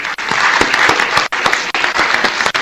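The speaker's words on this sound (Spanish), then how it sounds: "Les pido por favor que le demos una cordial bienvenida con un aplauso." Loud, dense audience applause welcoming a speaker at a conference, with many hands clapping close together in a steady, sustained burst.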